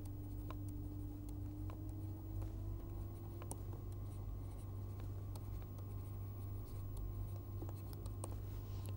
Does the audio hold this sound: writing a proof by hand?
yes